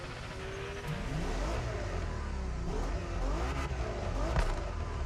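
Ferrari Enzo engine driving in The Crew Motorfest, a moderately loud, steady engine drone with gear changes and rising revs, heard close and alone.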